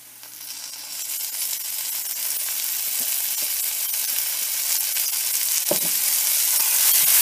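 Curry paste hits browned onions in a hot pan for an Indian chicken stew. A loud, dense sizzle builds quickly and holds steady, with a few soft stirring scrapes.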